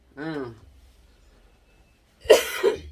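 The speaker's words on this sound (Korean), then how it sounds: "제가 여러분 기침을 해서 너무 죄송해" A woman coughs twice in quick succession while stir-frying chili peppers, the coughs loud and close, with a brief voiced sound before them.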